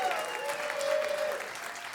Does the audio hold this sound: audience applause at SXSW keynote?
yes